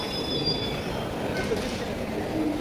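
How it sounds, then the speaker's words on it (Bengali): The 13015 Kabiguru Express pulls out of Howrah station with a continuous, fairly loud rail rumble. Faint wheel squeals rise briefly above it, and there is no clear talk. "13015 কবিগুরু এক্সপ্রেস। তার হাওড়া থেকে যাত্রা শুরু করলো।"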